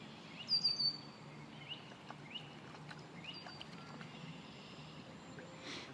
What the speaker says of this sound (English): There's a bird down there. I think there's a little nest around.